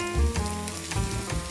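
Red chili powder sizzles in a hot pan, a steady crackling fry close up and alone, broken by a few low thumps as it is stirred.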